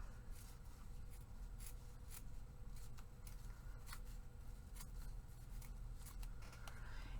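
Paper pages of a handmade journal book being cut, with soft repeated snips and rustling of paper, faint and close, no talking.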